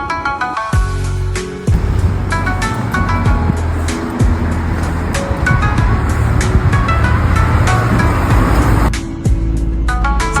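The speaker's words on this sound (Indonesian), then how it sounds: "Sekarang aku sudah naik bis, duduk, lihat keluar jendela." A city bus in Kyoto, Japan, heard from a seat inside: a steady engine and road rumble with rattling and faint chimes that runs throughout, a little quieter at the start and the end.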